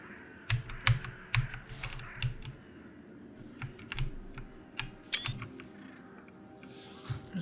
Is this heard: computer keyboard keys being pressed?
yes